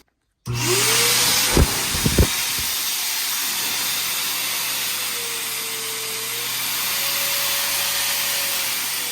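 An AUORC dog blow dryer with its hose attached starts abruptly and runs as a loud, steady rushing hiss. A faint tonal whine drifts through it, and a few brief knocks come early on.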